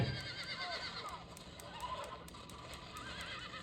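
A horse whinnies repeatedly in the Red Dead Redemption video game, its wavering neighs rising and falling over a steady bed of hoofbeats and outdoor ambience, fairly close and loud throughout.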